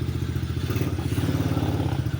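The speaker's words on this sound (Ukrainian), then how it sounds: "Двигун взагалі Працює так, не не в нагрузочку, собі легенько." An ATV quad bike engine runs lightly under no load, a close, steady low putter with rapid rhythmic pulses and faint clatter, without anyone speaking.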